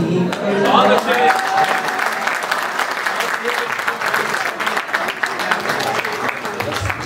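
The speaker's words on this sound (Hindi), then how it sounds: "पीछे से बहुत जोर से तालियां बजाई" Loud, dense audience applause fills a poetry recital at a kavi sammelan held at Bilaspur University, sustained and steady throughout, with a brief voice rising over the clapping near the start.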